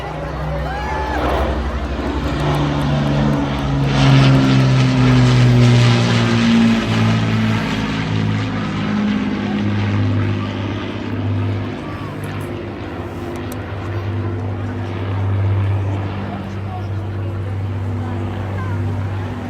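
Formation of display aircraft at the Blackpool Airshow 2024, a loud sustained engine drone with shifting, sweeping tones as the planes pass, steady throughout with a crowd ambience underneath.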